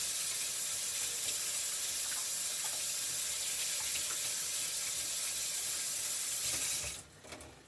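Tap water runs steadily into a cooking pot being rinsed out before split peas go in, a broad continuous hiss and splash that stops abruptly near the end, leaving a few faint clanks.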